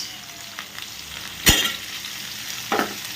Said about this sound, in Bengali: তারপরে দিয়ে দেবো ডুমো করে কেটে রাখা পেঁয়াজ